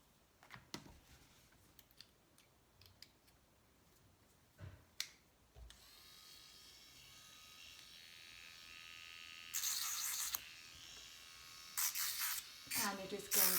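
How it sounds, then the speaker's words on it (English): An electric nail file sands acrylic ballerina nails in short high-pitched buzzing bursts near the end, after a quiet stretch of small clicks and taps, with some talking. "I think I do want to sand it a little bit more with the other one"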